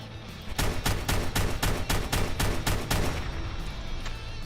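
Rapid bursts of gunfire in Fallout 4, a run of about ten loud, closely spaced shots fired at a tough warlord enemy, followed by a steady combat hum after the shooting stops.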